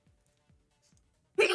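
One sudden, loud sneeze bursts out close by after a few faint, soft gulping sounds.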